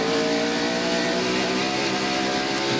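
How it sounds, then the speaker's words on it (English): A NASCAR Winston Cup stock car, Mark Martin's, at Bristol Motor Speedway in 1996 roars loudly and continuously, its engine note wavering as the throttle blips coming off a corner, with other race engines blending in. "We can listen to Mark Martin's car and tell that he's not able to get on the gasoline, the accelerator"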